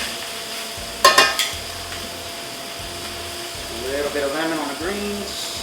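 Food with prosciutto fried in a pan and turned with tongs, a few sharp metallic clacks of the tongs over a low sizzle, followed by someone speaking.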